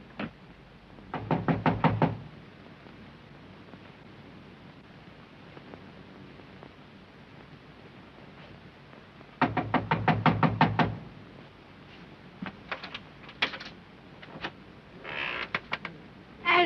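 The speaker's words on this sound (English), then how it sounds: "Knock on it." Two bursts of rapid knuckle knocks on a door in a 1930s film scene, each a quick run of raps, with a few scattered lighter knocks later over a steady hiss.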